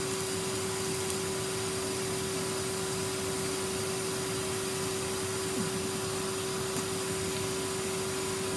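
A Henry vacuum cleaner runs steadily, its motor whine holding a constant drone as it sucks up wood shavings and old sweets, with faint rattles of debris through the pipe.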